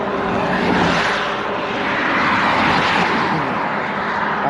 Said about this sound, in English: Wow, those are some loud cars.